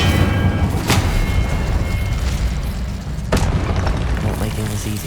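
An Incendio fire spell in Hogwarts Legacy bursts with deep booming roars under constant loud combat noise, with two sharp cracks standing out; a voice may also be mixed in.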